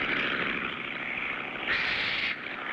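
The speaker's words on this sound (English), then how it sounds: "I hear an airplane. Sounds pretty low, too." An airplane flies low overhead with a loud, steady engine drone that swells briefly partway through and then drops back, with no talking.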